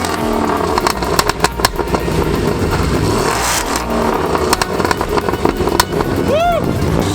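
Supercharged 6-liter LSA V8 car engine at a car meet, running loud and close with rough, throaty revs and a steady rumbling roar, plus crowd noise and a brief whistle-like sweep near the end.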